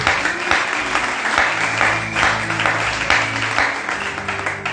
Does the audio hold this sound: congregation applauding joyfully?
yes